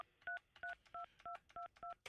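A telephone keypad sends seven short, evenly spaced dual-tone dialing beeps in quick succession, clear and isolated against a quiet line.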